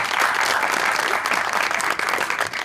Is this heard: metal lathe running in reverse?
no